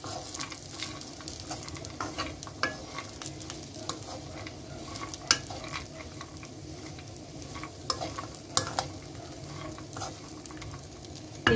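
Raisins frying in a pan, a steady close sizzle with scattered light pops and stirring scrapes running throughout without any voices.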